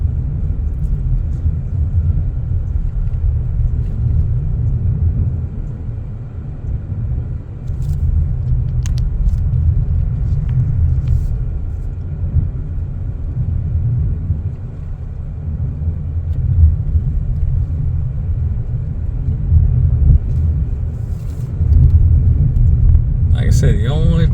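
A car rolls along a dirt road near Keystone Heights in North Florida, giving a constant low rumble from inside the cabin, steady with small bumps. People talk over it.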